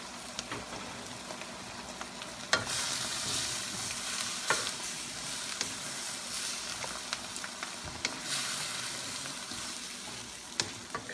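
Eggplant frying in a pan while it is stirred for lechon kare kare: a steady close sizzle with sharper scraping and clatter from the spoon every few seconds, and no talking.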